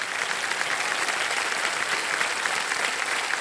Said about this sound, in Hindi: ये ताली बज जाए इनके लिए